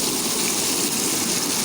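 A cup of water poured into a pot of Punjabi beef pulao masala with tomatoes, a loud, steady, close gushing splash that runs unbroken to the end.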